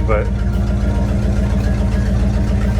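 A Ford Galaxie engine idles loudly through a leaky exhaust while smoking badly, a steady rumbling throb filling the clip, with a brief spoken word near the start.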